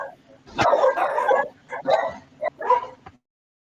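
A dog barks and yips in a few short, loud bursts close by, with people talking over and between the barks.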